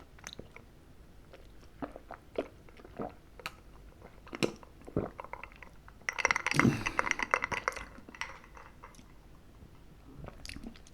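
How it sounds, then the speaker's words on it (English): Fried chicken noodles being eaten up close, with soft bites, slurps and wet chewing in irregular bursts, busiest in a dense crunchy stretch midway through, with no talking. "Right, I'm going to get stuck into these noodles."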